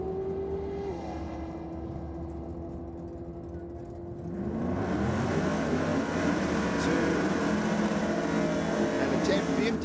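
Ford Cortina drag car launching at Sydney Dragway, an engine note idling at first and then surging into a loud, sustained roar that rises in pitch down the strip, with a commentator talking over it.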